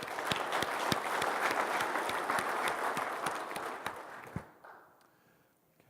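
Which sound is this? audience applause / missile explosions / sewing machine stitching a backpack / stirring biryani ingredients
audience applause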